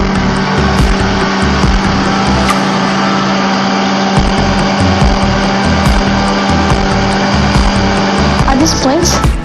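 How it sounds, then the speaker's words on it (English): A loud blender whirs continuously, its motor pulsing and grinding through a thick strawberry mixture, close up and without pause. "Now blend everything together until it's smooth and well mixed."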